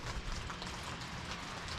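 Steady winter rain falls outdoors mixed with freezing rain and snow flurries, a continuous soft hiss of drops on surfaces at an even level with no other sounds.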